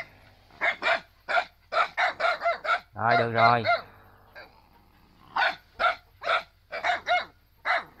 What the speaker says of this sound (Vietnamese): nhà có nuôi chó cọp ở đây, anh tưởng đâu là nó chuyện, tưởng đâu là người lạ nên thành ra nó sủa nó nè